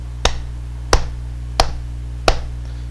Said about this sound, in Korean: 선생님이 박수 소리로 박자를 표현하면